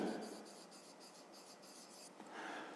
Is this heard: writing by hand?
yes